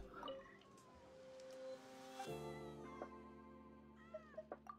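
A cat in Genshin Impact meows with several pitch-bending cries, close and clear, ending in a quick run of short meows. Nobody speaks.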